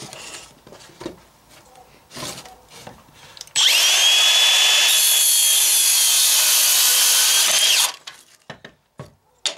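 A Makita XSH03 18V LXT brushless cordless 6-1/2" circular saw rips through wood in one loud, steady cut of about four seconds, the whine starting and stopping abruptly, with quieter handling noises before and after.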